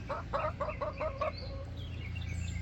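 Backyard hen in a chicken coop clucking in a quick series of close, rhythmic calls, then trailing off into softer chirps against a quiet background.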